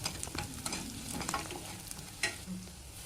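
A spoon stirs onions and garlic frying in a pan for a mixed vegetable curry, giving soft scraping strokes and a few sharp clinks over a low, steady sizzle, close and quiet.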